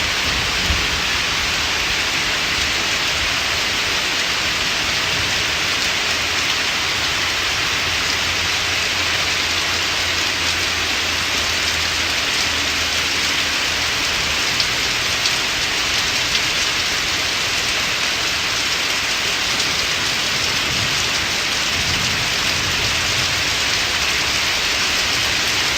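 Steady heavy rain falls for the whole stretch, a dense, even hiss with no pauses, close and loud, with no talking.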